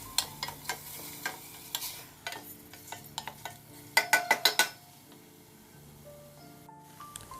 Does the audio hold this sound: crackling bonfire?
no